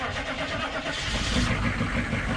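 A truck engine with partially dead batteries cranks on a jump starter and catches, settling into a rough running rumble close by, with a faint voice in the background.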